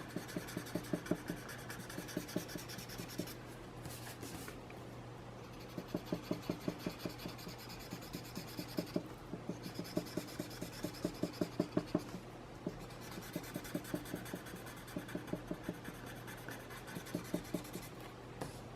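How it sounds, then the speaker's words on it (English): An eraser rubs pencil shading off paper on a tangle drawing; quick, soft scrubbing strokes come in close bursts separated by short pauses, with no speech. "And just erase the darn thing."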